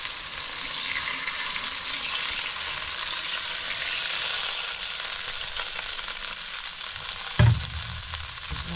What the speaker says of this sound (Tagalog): Bubuhusan natin ang kanyang sauce.